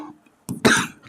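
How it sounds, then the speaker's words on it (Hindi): A single sharp cough during a Hindi maths lesson, close and loud, bursting out after a soft stretch of quieter sound and trailing off briefly. "खांसी हो गया।"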